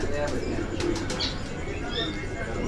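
Pigeons at a loft coo in a low, continuous murmur, with a few faint chirps rising above a steady background hum throughout.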